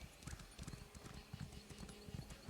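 Horse hooves clip-clop in a steady galloping rhythm across a stretch of ground in Elder Scrolls Online, close and fairly quiet, repeating in quick bursts for a couple of seconds.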